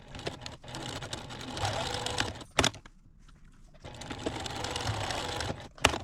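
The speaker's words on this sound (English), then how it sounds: "So let's go over to the sewing machine" A sewing machine stitches a half-inch double seam on a fabric garment bag, running in two long steady bursts of dense mechanical clatter separated by a brief pause.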